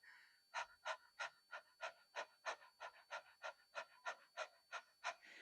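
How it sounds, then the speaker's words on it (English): Steady, rhythmic panting breaths of a qi gong breathing exercise, about fifteen short puffs in a slow, even cadence, close and clear with no talking. "just do some gentle, slow panting"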